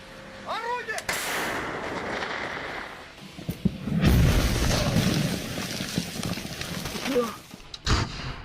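Artillery fire striking trenches, with heavy booming blasts and rumbling impacts, some sharp reports and a sustained roar in the middle, heard at moderate distance.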